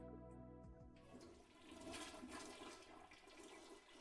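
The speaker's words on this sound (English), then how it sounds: "We will flush ourselves down the toilet." A toilet flushes in the video game Omori, a rushing swirl of water that swells and then drains away, clear and alone over faint background music at first.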